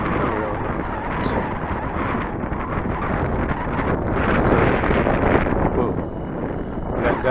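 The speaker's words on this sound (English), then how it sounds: "Gust now." Steady wind buffets the microphone at an RC flying field while an E-flite Apprentice S 15e model plane is flown, a continuous rushing roar with a gust swelling midway, and a voice talking underneath.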